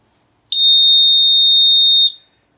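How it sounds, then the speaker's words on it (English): Water leak alarm for a water heater pan sounding one loud, steady high-pitched electronic tone lasting about one and a half seconds, close up and alone, then cutting off abruptly. "Now if it gets wet, it will sound something like this."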